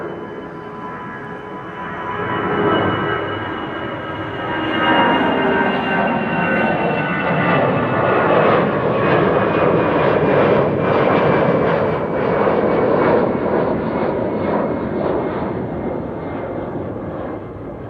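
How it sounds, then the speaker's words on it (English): An EasyJet Airbus A319 jet bound for Belfast takes off at Amsterdam Schiphol Airport, its engines a loud, broad roar that builds over the first few seconds and then holds steady and close throughout, with no one talking. "Nice combo of arrival and takeoff almost immediately behind one another"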